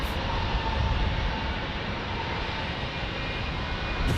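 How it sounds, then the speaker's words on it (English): A Porter Airlines Embraer E195-E2 jet is heard as an aircraft engine drones loud and steady at an airport in San Diego, unbroken by talk. "There's Porter. Porter Airlines in the E295."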